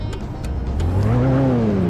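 A limousine in the City Car Driving video game accelerates hard, its engine note climbing steadily in pitch and growing louder over the whole stretch, heard alone without talk.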